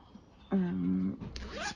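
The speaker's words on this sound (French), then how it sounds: "proto avec la fermeture éclair pour les grands formats" A zipper on a large-format fabric prototype is drawn in two quick strokes, one longer pull and then a shorter rising pull, close and clear in a quiet room.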